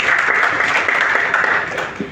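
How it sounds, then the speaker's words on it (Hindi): Children applauding at a toppers' award ceremony in Uttar Pradesh, a steady dense clatter of hand claps held at an even level for about two seconds. "प्लीज एक बार तालियां बजाइए बच्चों"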